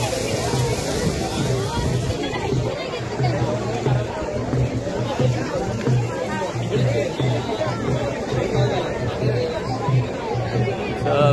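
Dense crowd chatter at the Narali Purnima festival in Worli Koliwada: many overlapping voices and a steady hubbub close around, continuous and busy throughout.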